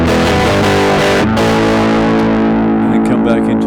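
Electric guitar played through a cranked Fender 5E3 tweed amp model in Ableton, giving a loud, thick overdriven tone with sustained chords and a sharp re-strike partway through, ringing out without pause.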